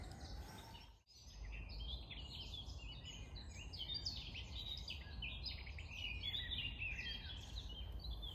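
Morning birdsong beside a quiet river: several birds chirp and trill continuously over a soft background hiss, moderately distant, with a short dip in sound near the start.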